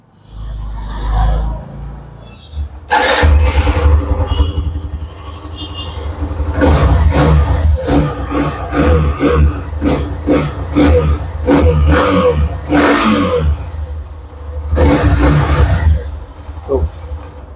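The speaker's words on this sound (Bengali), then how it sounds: "আমি আপনাদেরকে বাইকটির সাউন্ড শুনিয়ে দেখাবো। আমি একটু স্টার্ট করতে চাচ্ছি" A Hero Xtreme 125R motorcycle, a 125 cc bike from 2025, roars loudly and close up, revving in repeated surges after an initial rumble, with brief dips between throttle blips.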